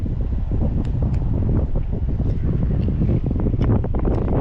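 Strong wind buffets the microphone on a fishing boat out on Tampa Bay, a loud, steady low roar with gusty rumbles and faint knocks of the boat.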